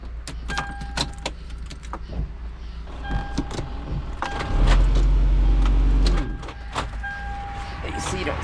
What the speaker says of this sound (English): Oh, there's keys.